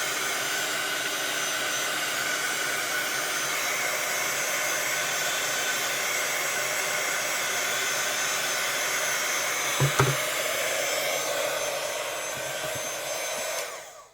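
A heat tool blows steadily over a shrink-plastic keychain, a constant loud whooshing roar lasting over thirteen seconds, with a couple of faint knocks near the end before it switches off.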